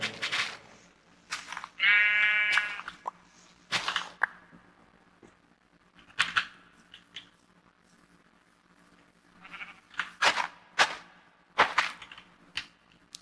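Sheep bleat in a blocky building video game, one clear wavering bleat standing out among scattered clicks and short bursts, all fairly quiet with no talking.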